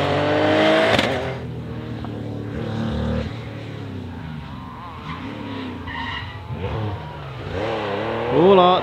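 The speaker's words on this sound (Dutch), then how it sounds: "dat is een Porsche" A Porsche rally car revs and passes by during a rally, a loud engine sweep with tyre noise fading as it goes, then revving again close by at the end.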